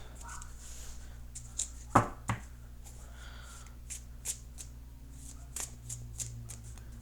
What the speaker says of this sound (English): So I'm shuffling the cards.